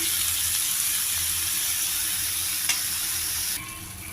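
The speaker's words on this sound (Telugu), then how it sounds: "బాగా మిక్స్ చేసుకోవాలి పోపులోను" Vegetables stirred and mixed in a hot sizzling tempering, loud steady frying hiss up close with a brief scrape, then the sizzle dropping slightly quieter near the end.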